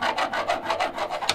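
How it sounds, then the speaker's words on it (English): A drumstick is rubbed in circles around the rim of a floor tom, making a rhythmic scraping rasp that swells and fades in quick repeated strokes, close and moderately loud. "you're just playing like you're going to play a rim clip, and then you start rubbing the stick around"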